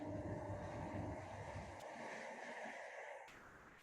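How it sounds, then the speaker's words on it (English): Wind blowing steadily over open water near a sailboat, a broad rushing roar that stays loud and constant before easing slightly toward the end. "And there's some wind blowing."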